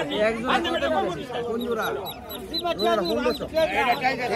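Many domestic ducks quack continuously in a noisy chorus at a rural market, overlapping calls nearby with people chattering in the background.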